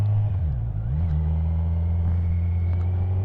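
A 2020 Kawasaki Z900 motorcycle engine gives a steady, loud, close drone with a brief dip and rise in pitch at the start as it pulls out to overtake.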